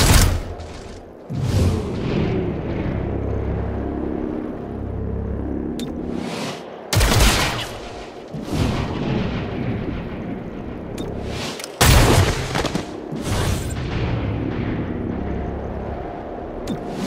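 Heavy gunfire bursts in the turn-based video game XCOM: Chimera Squad, three loud booming volleys with dense crackling tails, separated by brief gaps.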